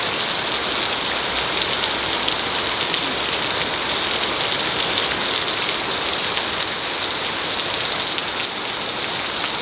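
Heavy rain falls in a steady, dense hiss of large droplets striking surfaces, loud and unbroken throughout with no voices.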